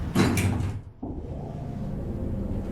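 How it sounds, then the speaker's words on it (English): Station lift doors in Train Sim World 6 slide shut with a soft rush, then settle with a dull thud, leaving a steady low hum of the lift and station ambience. "Doors closing."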